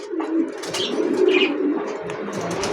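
Racing pigeons coo softly and continuously at close range, with a few faint wing flutters and chirps mixed in.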